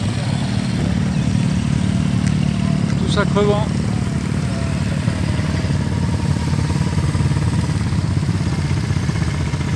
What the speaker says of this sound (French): Un bon petit paquet de motos.